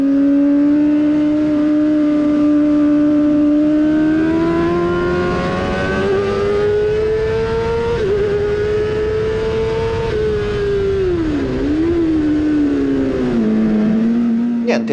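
A 60cc racing kart engine screams at high revs during a winter trophy race, a loud, close, sustained whine that rises slowly and then dips and wavers as the driver lifts off for a corner.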